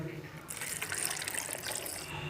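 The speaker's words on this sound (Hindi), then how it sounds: "और इसमें हमने आधा गिलास पानी का डालना है।" Water from a glass pours into a peach juice mix of honey and lemon juice in a blender jar, a short close splashing gush that fills the middle of the moment.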